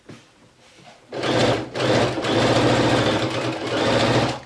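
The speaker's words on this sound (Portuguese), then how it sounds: "vou costurar mais um pedacinho" After a quiet second, a sewing machine whirs fast and steadily at close range while it stitches the fabric edge of a round tablecloth, with brief pauses in the rattling hum.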